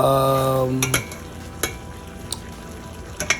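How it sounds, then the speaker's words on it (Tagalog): Bitter melon (ampalaya) being stirred in a pan after cooking: a brief tonal hum fades, then a soft sizzle continues under several light metallic scrapes and clinks of a utensil against the pan. "hinahalo na natin ang ayan, luto na yan"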